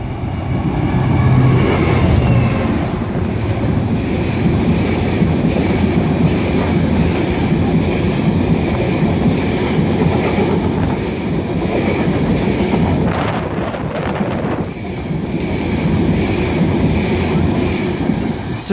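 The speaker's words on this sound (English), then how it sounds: "Mike 10, 11:28 from Redcar to Carlisle New Yard from the 66422 off to Carlisle New Yard." Freight train 6M10, an ore service from Redcar to Carlisle New Yard hauled by locomotive 66422, rumbles past steadily and loudly throughout, with rhythmic wheel clatter and a brief metallic squeal midway.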